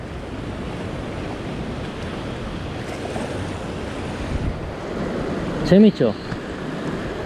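Strong surf pounds a rocky fishing spot at high tide, a steady, loud wash of breaking waves and wind noise filling the whole clip, with a person briefly talking near the end.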